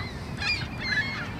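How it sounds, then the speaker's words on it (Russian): Gulls squawking while flying over a supermarket parking lot in Toronto, a few loud honking calls overlapping close by over a steady outdoor background. "Потому что чайки летают, горланят."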